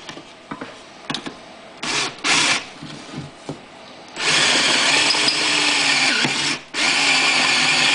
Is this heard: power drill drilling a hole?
yes